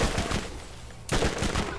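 Rapid gunfire in the Borderlands shooter game, a dense run of loud shots that thins briefly midway before another burst resumes.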